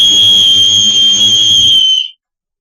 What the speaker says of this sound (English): Have y'all ever heard this whistle?